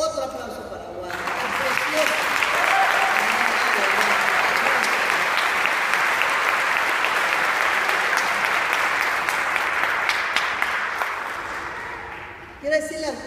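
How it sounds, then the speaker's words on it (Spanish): A crowd at a city hall speaking event bursts into sustained applause for Wanda, dense and steady for about ten seconds before tapering off, with no talk over it. "Y realmente otro aplauso para Wanda"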